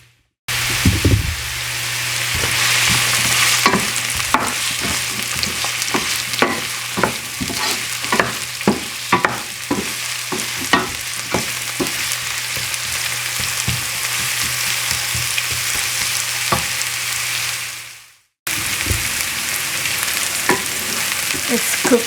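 Spring roll filling of finely chopped onion and other vegetables fries steadily in a pan, a dense continuous sizzle broken by frequent scraping stir strokes, close and alone, with a short break near the end.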